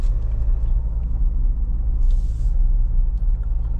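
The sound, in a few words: Mahindra Scorpio N 2200 cc engine driving on road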